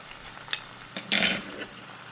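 Ground beef with pepper and celery frying in a pan, soft sizzling broken by a few sharp utensil clinks and a brief scraping stir, fairly quiet and with no talking.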